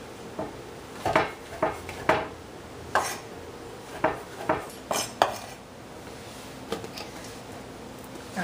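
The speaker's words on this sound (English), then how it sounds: "I'm gonna slice each mushroom in about 4 pieces." Mushrooms being sliced into pieces with a knife on a board, a dozen sharp, irregular chopping taps, close and fairly quiet, with no talking.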